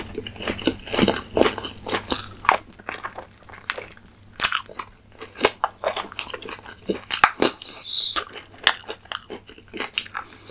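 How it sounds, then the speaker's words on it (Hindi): Close, wet bites and chewing of mutton kosha, a slow-cooked Bengali mutton curry, with crunchy, squishy mouthfuls in an irregular rhythm that fills the whole stretch and no talking. "this first bite of mutton कोसा कोसा मांसो"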